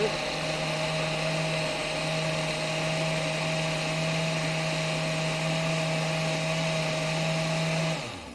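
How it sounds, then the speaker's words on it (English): Kitchen blender motor whirring at a high, steady pitch for about eight seconds, loud and close with a constant whine, then cutting off abruptly at the end. "Alright, it is blending."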